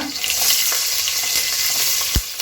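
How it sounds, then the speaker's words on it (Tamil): Onions frying in a pan with green chillies, cardamom, cloves and fennel give a loud, steady sizzle with light stirring scrapes and one dull thud near the end; no one talks. "இப்போ வெங்காயம் போட்டுக்கலாங்க"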